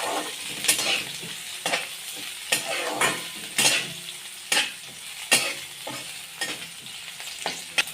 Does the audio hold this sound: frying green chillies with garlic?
yes